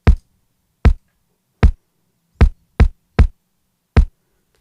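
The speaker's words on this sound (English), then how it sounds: "The kick is from the DMX core kit with some saturation." Seven punchy kick drum hits from a DMX drum machine kit with saturation, played alone at an uneven pace, each a short, loud, deep thump.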